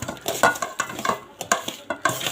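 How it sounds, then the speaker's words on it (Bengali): Pieces of rohu fish rubbed with turmeric and salt in a bowl, a close run of quick wet slaps, squelches and light clinks in a busy uneven rhythm, with no talking. "এখন আমি এটাতে একটু হলুদ আর লবণ মাখিয়ে নেব।"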